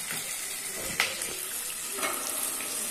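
Onions and scotch bonnet pepper frying in a pan for Nigerian-style scrambled eggs give off a steady, soft sizzle with a few light clinks.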